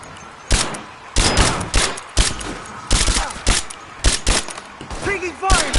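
Rapid bursts of gunfire from the video game Rise of the Tomb Raider on PS5, with loud repeated volleys and sharp single shots across the whole stretch. Shouting voices break in between the bursts.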